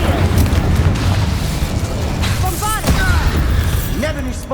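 Confringo spell explosions in the video game Hogwarts Legacy, heavy booming thumps and rumbling blasts amid combat noise with chirping creature cries, while a voice shouts spell names.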